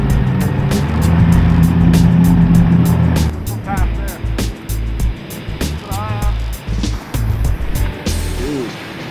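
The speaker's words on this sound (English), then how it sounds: "Tracy, just turn the big motor on just in case something pops up outside" A fishing boat's big outboard motor runs loud and close, with its drone fading as water rushes and slaps against the hull, and rhythmic ticking knocks throughout.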